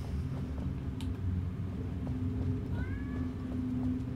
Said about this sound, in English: That was definitely a Stevie meow.